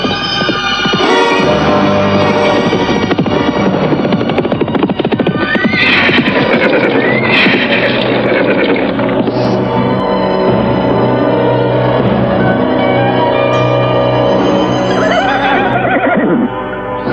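Soldiers' horses on the move, with loud neighing and whinnying over clattering hooves within a dense, continuous film soundtrack of music and effects that stays strong throughout.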